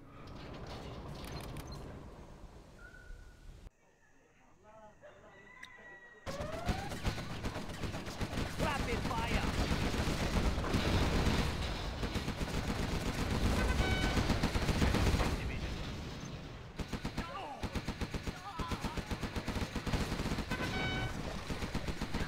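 Gatling tanks in C&C: Generals unleash sustained rapid gunfire, a dense continuous rattle that dominates most of the stretch after a brief quieter gap, with game sounds and a voice mixed in.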